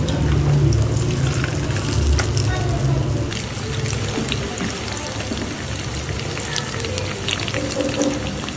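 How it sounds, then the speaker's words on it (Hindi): Chicken pieces deep frying over medium heat in hot oil, a loud, steady, dense sizzle and bubbling that runs unbroken throughout, with a brief splashy crackle near the start as pieces drop in. "अब इसमें हमने डालते जाना 1 बाय 1। मीडियम आंच पे इसको हमने डीप फ्राई कर लेना।"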